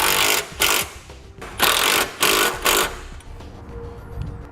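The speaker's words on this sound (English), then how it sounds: "Now we'll go ahead and tighten our bolts in the front using a wrench and a socket." Bolts being tightened on a 2017 Ford Focus base plate kit installation with a wrench and socket, a series of about five loud, rapid ratcheting bursts close by, separated by short pauses.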